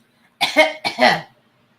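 Two quick, close coughs in a row, sharp and loud against silence.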